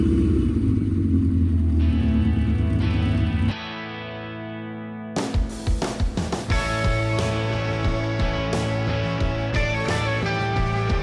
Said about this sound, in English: Now we can get the car to start.